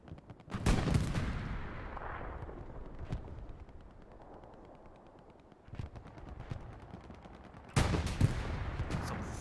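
Bursts of tank cannon and machine-gun fire crack through a World War II video game battle between a Panzer IV and a Sherman at Utah Beach, with sharp loud blasts opening and closing a stretch of quieter rumbling gunfire.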